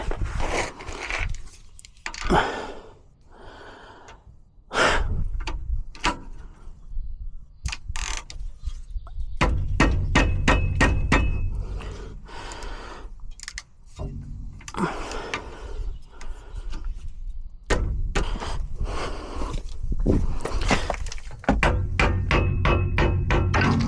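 On a Ram 1500 pickup with brake pads worn right down, a hammer strikes the brake parts in sharp, irregular bursts. Single knocks and rapid clusters are broken by short pauses and metallic clatter from the parts being worked.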